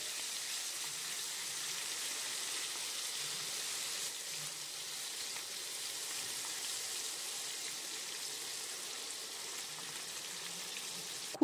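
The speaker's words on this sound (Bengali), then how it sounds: "তেলটা গরম হয়ে গেছে, এবার আমি মাছগুলো দিয়ে দিলাম, একবারেই সব ভেজে নেব।" Small tengra fish frying in hot oil, a steady, fairly quiet crackling sizzle that carries evenly for several seconds with a sharp clink at the very end.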